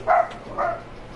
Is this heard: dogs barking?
yes